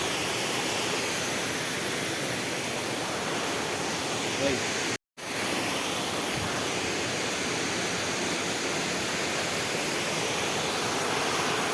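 Machha Kandana waterfall in Mayurbhanj roaring steadily as a broad, continuous rush of falling water, loud and close, with one brief dropout partway through.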